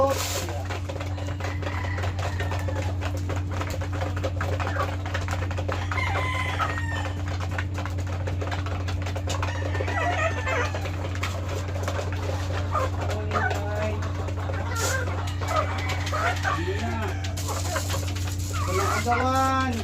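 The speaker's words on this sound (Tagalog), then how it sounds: "Pakain muna tayo ng mga inahin." Hens cluck busily at feeding time, with a rooster crowing among the flock and chatter close by, while someone talks over the birds.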